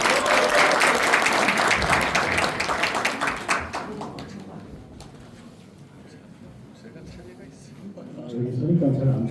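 An audience at a Korean politician's public report meeting in a city culture and sports hall breaks into loud applause that fades to quiet, then a second burst of clapping rises near the end.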